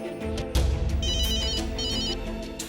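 A mobile phone ringtone plays a bright electronic melody with repeating high chiming notes over a fuller musical backing, fairly close and alone.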